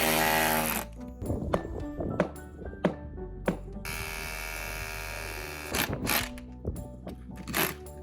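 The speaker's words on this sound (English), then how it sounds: "Makita electronic disc grinder, 180. We're removing the safety cover from the grinder and cutting deeply." A Makita 180 mm electric disc grinder with its safety guard removed cuts rebar in a block wall, giving a loud high whine that surges and drops in short bursts as the blade bites and lets off.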